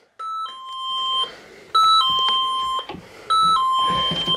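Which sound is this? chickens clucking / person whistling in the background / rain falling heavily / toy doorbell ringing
toy doorbell ringing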